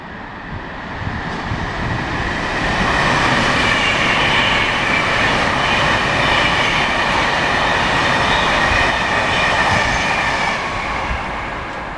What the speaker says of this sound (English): Train there going to London, that's a slow train.